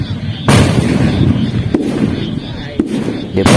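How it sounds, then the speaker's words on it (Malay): Traditional village bamboo-style meriam cannons fire alternately at night during a village cannon game, giving four sharp, loud booms spaced about a second apart over a continuous rumbling background, close enough to feel heavy. "Dia bakar secara selang-seli. Bergegar tanah tempat saya berdiri sekarang."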